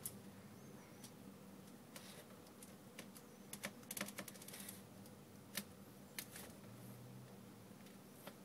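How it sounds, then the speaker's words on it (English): A flat screwdriver pries the LCD off a Nokia E71 phone, producing scattered sharp clicks and taps close up, with a small cluster of quick clicks in the middle over a low background hum. "you can put the flat screwdriver on the side to chop off"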